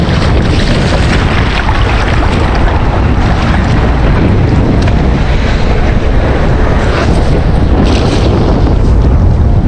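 Strong wind roars continuously and loudly, buffeting the microphone with a constant rushing blast and no voices.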